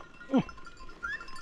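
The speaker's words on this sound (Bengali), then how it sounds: "সব দুম্বা।" A fat-tailed dumba sheep gives a single short bleat at moderate distance beside a road in Tanzania, followed by faint outdoor background.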